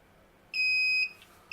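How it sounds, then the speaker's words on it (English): A heat press timer used for t-shirt vinyl transfers sounds a bright electronic tone that holds for about half a second, then breaks off into a short repeating beep, clear against a quiet room. "So once that timer goes off, pull up your press."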